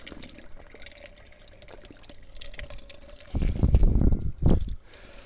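Water gushes and splashes from a public fountain tap in the town square of Monte San Savino, Italy, for a couple of seconds, nearby and fairly loud, after a quieter stretch of outdoor background.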